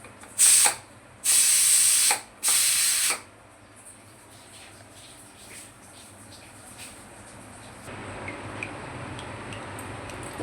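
A kitchen pressure cooker whistle releasing steam in three loud hissing bursts, each about a second long, followed by quieter background sounds.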